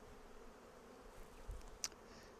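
Honey bees buzz around an open hive as a soft, steady drone, with one bee passing close near the end.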